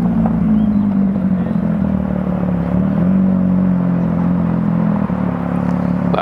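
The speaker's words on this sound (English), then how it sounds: "Just heard this Porsche coming through." A Porsche GT3 engine passes on the street, a steady loud rumbling drone with a low whir that holds for several seconds, car noise filling the whole stretch with no talk over it.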